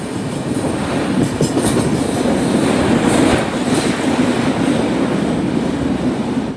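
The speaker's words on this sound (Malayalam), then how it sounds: "രണ്ടേ 40 ട്രെയിൻ ഇപ്പോൾ രത്നഗിരി റെയിൽവേ സ്റ്റേഷനിലേക്ക് ഇതാ എത്തുകയാണ്" The Mandovi Express running on the rails between Madgaon and Mumbai near Ratnagiri, a loud steady rumble of wheels with faint clickety-clack heard from inside the moving train, continuous throughout.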